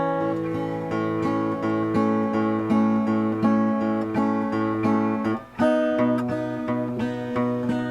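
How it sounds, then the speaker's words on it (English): About eight layered electric guitar tracks play a repeating piano-style part, steady plucked notes ringing in a full, loud arrangement with a brief dip in the middle. "So I stole the piano part and I put it onto guitar."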